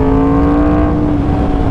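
A 1000cc motorcycle accelerating hard in 4th gear gives a loud, close, steady engine drone with a strong humming tone that shifts only slightly over a brief stretch.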